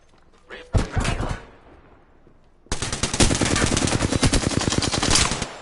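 A short burst of automatic fire in the video game Apex Legends, then a pause, then a long rapid stream of evenly spaced shots that stays loud and close until the end.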